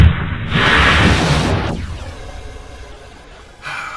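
A loud burst of rushing, hissing noise from a fizzling rocket in Kerbal Space Program cuts off and trails into a long, fading sizzle, with a brief noisy flare near the end.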